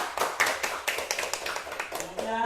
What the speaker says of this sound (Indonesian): Tepuk tangan untuk Wulan.